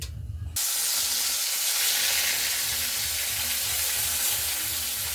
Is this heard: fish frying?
yes